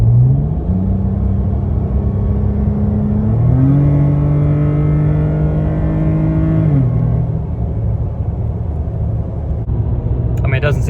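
A lifted 2022 Nissan Frontier truck on 35-inch tires accelerates in a loud, close pull, its engine note rising through stepped gear changes before easing off.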